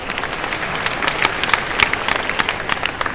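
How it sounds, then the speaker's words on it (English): Conference audience applauding steadily with dense overlapping claps, fairly loud and continuous, no voices over it. "Let's all give him a round of applause."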